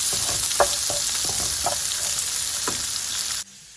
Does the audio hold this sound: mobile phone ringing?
no